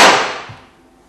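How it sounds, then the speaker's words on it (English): A single sudden whoosh bursts out loud and broad as propanol vapour ignites in a bottle, then fades quickly over about a second. "The whoosh sound is caused by the rapidly expanding gases leaving the bottle."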